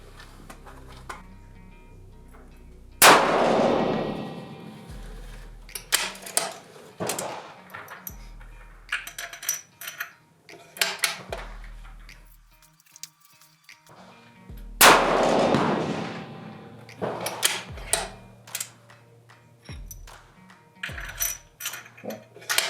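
.308 Winchester rifle firing Solognac match ammunition outdoors, sharp loud reports, two especially strong ones about twelve seconds apart, separated by several quicker, lighter bangs and clatter.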